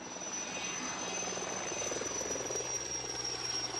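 A helicopter flies over an area hit by wildfire, a steady close rotor and engine drone that holds at an even level throughout, with no voices.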